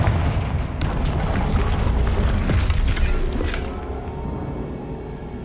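A Confringo spell explodes in Hogwarts Legacy: a loud, sustained fiery blast with crackling debris and a rumbling low end that gradually fades toward the end.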